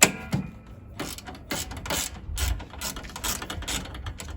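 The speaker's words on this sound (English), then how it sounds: "So our first step is to remove this bolt." A hand ratchet removes a bolt on a Toyota Hilux N80 during a dual battery kit install, giving repeated rapid clicking pawl bursts at close range with no talk.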